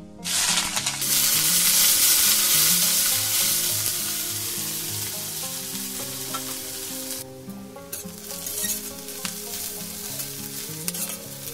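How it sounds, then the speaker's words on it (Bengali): Sliced onions fry in hot oil with a bay leaf, a dried chili and cumin, giving a loud, dense, steady sizzle close up that eases slightly partway through, under background music. "পেঁয়াজটা ভাজা হয়ে গেছে।"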